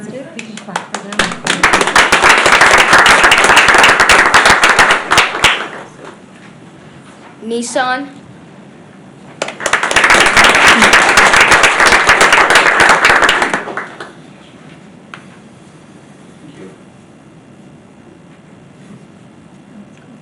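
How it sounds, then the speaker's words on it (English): Audience at a school board meeting applauds two times, each burst of clapping lasting about four seconds, with a spoken company name in the gap between them and quiet room tone afterward. "We can clap for them."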